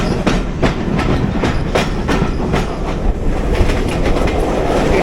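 Railway wagons on the Great Central Railway roll past close by with a steady, loud clickety-clack of wheels over rail joints, with a Class 20 diesel locomotive in the consist. The sound continues throughout.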